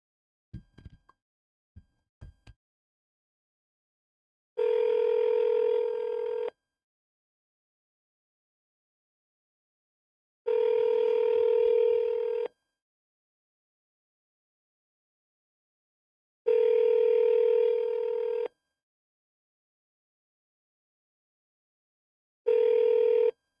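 Phone ringback tone while calling a seller, four separate two-second rings repeating at steady intervals of about six seconds, preceded by a few quick faint clicks from dialing, with no speech.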